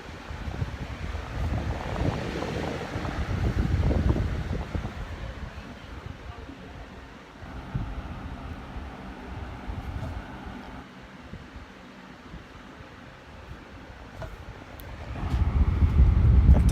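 A 2011-12 Lasko 3733 box fan runs on medium speed with a steady, close broadband whoosh that swells louder near the end.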